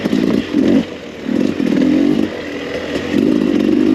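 A 2021 Beta 300RR two-stroke dirt bike engine runs close by, throbbing in uneven pulses that rise and fall every half second or so, loud and alone without talk.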